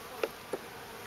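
Two short, distinct insect buzzes sound close by, the second a beat after the first, over a faint steady background hum near honey bee hives.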